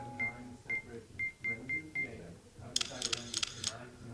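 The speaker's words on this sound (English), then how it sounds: "you'll hear it beep 3 times when we're in focus" A phone camera beeps three times in a regular series of short tones before a selfie, followed by a quick burst of rapid shutter clicks, with quiet talk in the background.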